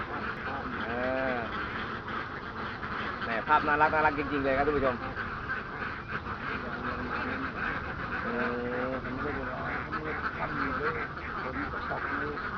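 Farm ducks raised for eggs quack repeatedly in short nasal bursts, a flock heard at moderate distance while someone talks over them throughout.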